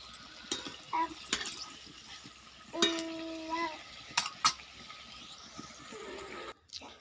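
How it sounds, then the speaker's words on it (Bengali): Greens fritters (shaak chop) frying in hot oil, a quiet bubbling sizzle broken by a few clinks and stirring scrapes, close and fairly soft. "এরকম করে লাল করে ভেজে তুলে নেব।"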